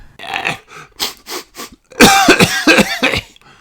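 A cartoon pony sniffles and then lets out a run of loud, close coughs, first several short sniffly bursts, then a rapid series of harsh coughs.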